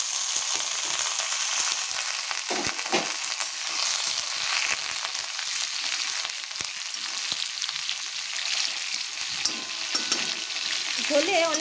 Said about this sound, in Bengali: এখন আমি বেগুনটা ভেজে নেব।